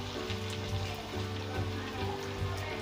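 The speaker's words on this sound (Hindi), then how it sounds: "हमने एक कढ़ाई में तेल को गरम कर लिया है और अब हम इसमें आलू की टिक्की डालेंगे।" Potato tikki sizzle steadily in hot oil in a kadai, a dense, continuous crackling fry heard close and fairly loud, with no talking.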